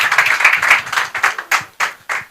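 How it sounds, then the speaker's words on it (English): Audience clapping in a hall, a dense burst of applause that thins into several separate sharp rounds of clapping, fairly close and loud. "they will clap for you very well"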